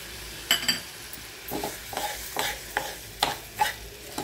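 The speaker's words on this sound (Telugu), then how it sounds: "ఇప్పుడు ఈ నూనెల ఫ్రై అయితే బాగుంటుందని ఇట్లా వేస్తా" Moong dal frying in oil with ginger garlic paste in a pan: repeated close stirring scrapes and spoon taps over a soft sizzle, roughly every half second, no voices.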